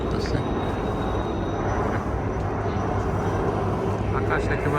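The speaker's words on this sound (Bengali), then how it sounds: "দেখে মনে হয় হেলিকপ্টারের মহড়া চলতেছে।" Aircraft engine noise from helicopters flying overhead during a drill near Howrah Bridge in Kolkata under heavy overcast and fog, a steady loud drone filling the whole stretch with no clear pauses.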